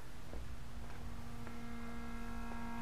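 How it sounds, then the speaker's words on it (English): The vacuum pump of a VW A3 central locking system runs continuously as a low, even electric hum with a steady droning pitch, quiet and alone. "the pump is still pumping"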